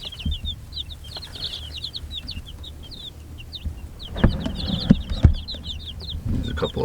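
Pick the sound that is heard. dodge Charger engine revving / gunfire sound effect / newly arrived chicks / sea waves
newly arrived chicks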